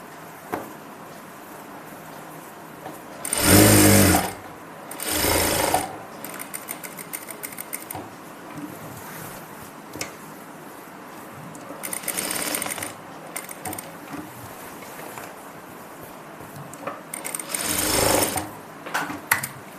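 A sewing machine stitches a pocket into a salwar in bursts of a few seconds, loud whirring runs separated by quieter gaps of handling fabric, with no talk over it.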